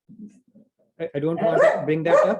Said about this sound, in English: if you're hearing some background, that's my dog